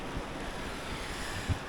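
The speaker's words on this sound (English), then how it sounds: "So, the storm is here." Wind and storm waves roll steadily around a boat at anchor off Menorca, a continuous low roar with a brief thump near the end and no speech.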